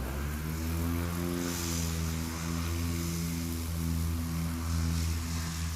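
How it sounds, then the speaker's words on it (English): Maule STOL propeller airplane taking off at a grass-and-dirt airstrip, a loud steady droning engine and prop hum with strong harmonic buzz, sustained and close throughout. "The plane wasn't quite ready to fly."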